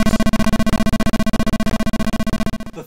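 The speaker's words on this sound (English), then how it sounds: "you hear a beeping noise according to the number of points you scored" Rapid electronic scoring beeps from the Intellivision game Stampede, a long run of loud, evenly spaced chiptune pulses sounding alone and ending abruptly.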